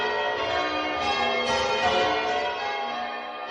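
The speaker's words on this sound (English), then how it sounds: "I'm going to ring the bells." Church bells peal continuously in a village, their rich overlapping tones ringing steadily and fairly loud with no voices over them.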